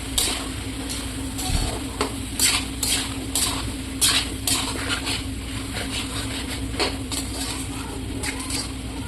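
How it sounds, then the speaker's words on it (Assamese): Chicken pieces with potatoes and spices being mixed and fried in a pot, heard as repeated close spoon scrapes and knocks in an uneven rhythm over a low background sizzle. "ভালকৈ মছলাখিনি মিক্স কৰি ল'ম যাতে মাংসখিনিৰ ভিতৰত কালাৰটো সোমাই যায়"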